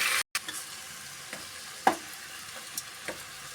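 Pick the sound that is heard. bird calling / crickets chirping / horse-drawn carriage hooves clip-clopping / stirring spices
stirring spices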